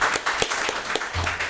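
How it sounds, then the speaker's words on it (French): A studio audience on a French-language television game show applauds at the end of a game, dense continuous clapping close and loud for a moment, with no one talking over it. "On applaudit"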